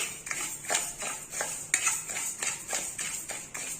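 Raw ponni rice and moong dal are stirred while they dry-roast in a pan, with a spoon scraping and clinking in a steady rhythm of repeated strokes, close and moderately loud.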